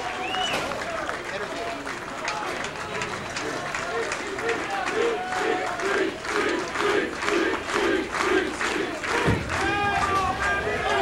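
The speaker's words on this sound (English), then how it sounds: "Crowd chanting for Weber" A crowd at a professional bowling tournament at a family fun center chants rhythmically for a bowler, loud and steady, rising with cheers toward the end.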